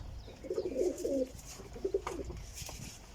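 Flying pigeons give a few soft throaty coos in two short bursts, close but fairly quiet, with no voices.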